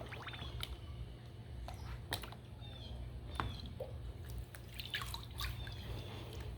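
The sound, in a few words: water sloshing while panning fine material for gold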